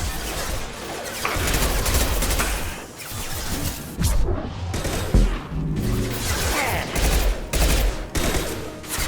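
Heavy weapon fire from the Mass Effect 2 video game: dense, loud volleys of concussive shots and blasts with booming impacts, firing continuously throughout amid combat noise.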